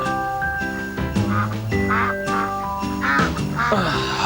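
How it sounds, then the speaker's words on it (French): Cartoon ducks quack repeatedly in quick, close bursts over a tinkling musical backing. "Mais je ne rêve pas, j'entends bien. Oh! Des canards."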